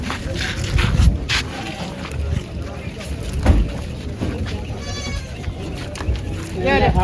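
A goat bleats among people talking outdoors, with a wavering bleat standing out near the end over a busy, noisy background.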